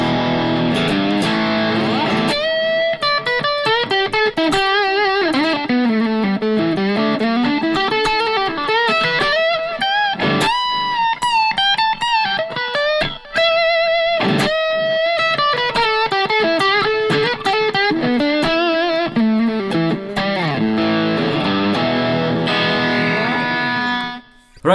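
Lead tone from an Enya Nova G electric guitar on its bridge pickup, with sustained melodic notes and some effects or distortion, played loud and steady throughout with no talking.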